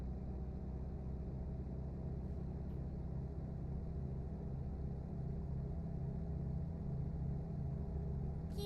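A truck engine in American Truck Simulator gives a steady, low, continuous rumble, turned down quiet and unchanging, with no other sounds.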